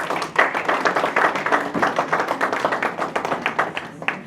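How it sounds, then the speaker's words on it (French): A church congregation applauds during a worship celebration with dense, steady clapping that falls into a loose pulsing rhythm, fairly loud and close, with no voices over it. "Applaudissez pour ce Dieu-là"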